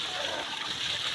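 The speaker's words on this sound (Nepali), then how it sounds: "साथी एकदम मस्त कपडा धोइरहनु भएको छ" Water running from an outdoor tap while clothes are washed, a short burst of continuous splashing and gushing close by.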